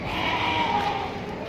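A goat bleats in a continuous, wavering cry at the Deonar livestock market, close and fairly loud over a steady crowded background murmur.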